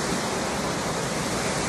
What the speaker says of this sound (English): How cute is this waterfall?